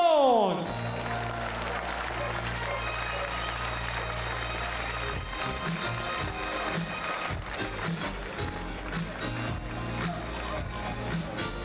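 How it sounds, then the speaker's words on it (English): An audience applauds a bronze medalist at a speed climbing World Cup final in Chamonix, a sustained broad wash of clapping from a crowd that runs steadily throughout, with an announcer's voice and music-like tones underneath. "I would like a round of applause for Sing Sing Song."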